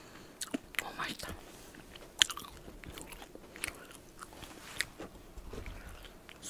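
Close, quiet bites and chewing on crispy KFC fried chicken skin, with scattered crunchy snaps and a few sharper bite transients over soft mouth sounds, in an intimate eating setting.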